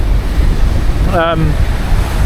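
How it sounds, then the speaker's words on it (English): Gale-force wind roars steadily over choppy, breaking waves in a bay during Storm Ashley, a loud continuous rush of surf and gusting wind with a brief voice heard in the middle. "it's really blowing up a gale out there"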